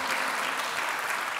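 Steady, dense applause from a church congregation praising God, loud and continuous with no break for the whole moment.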